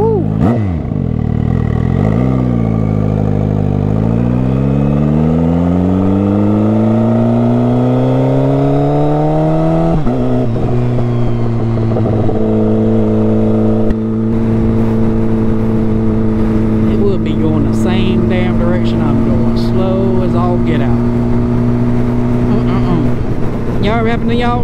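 A turbocharged Suzuki Hayabusa motorcycle on a daily commute revs hard and loud, its engine note sweeping upward through gears with a sharp shift near the middle, then holding at high speed with wind rush and faint voice.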